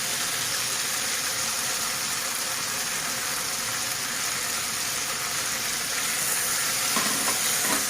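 Potatoes fried with salt and turmeric sizzle steadily in a pan as ground poppy seed paste and green chilies go in, with a brief stir or clatter near the end.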